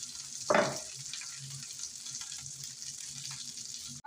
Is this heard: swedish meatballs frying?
yes